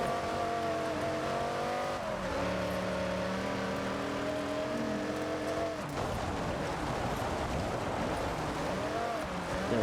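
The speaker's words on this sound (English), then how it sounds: "Those brutal V10 sounds of the Vipers are actually some of the greatest sounding cars ever." A Dodge Viper's V10 snarls in a Forza Horizon 6 race, loud and continuous, with steady revving pitch, a sharp shift or lift around two seconds in and a rougher, choppier engine note after about six seconds.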